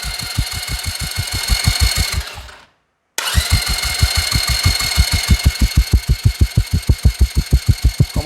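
Starter motor cranks an Agility 125 scooter engine in a rapid, steady chugging rhythm, pauses briefly in silence, then cranks again and catches into a running beat, close and loud with no talk.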